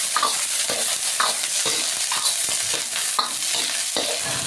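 Mushroom and fishball mixture is stirred and frying in a pan, with a steady loud sizzle and repeated scraping strokes of a ladle, close up with no talking.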